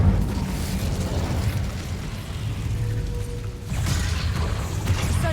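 An Incendio fire spell is cast in Hogwarts Legacy: a continuous loud rumbling, roaring burst with mechanical creaks, a brief dip and a short tone, then a renewed surge of whooshing flame noise.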